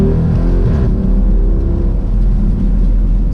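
Jeep SRT daily driver pulling away, its engine rumbling deep and loud close by in a steady, throaty acceleration with no voices over it.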